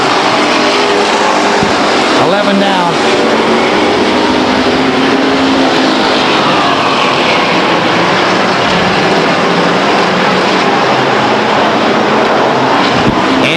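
Race cars lap Stockton 99 Speedway, engines roaring loud and continuous as the pack sweeps past, with a brief swelling pass and faint voices on the PA under the noise.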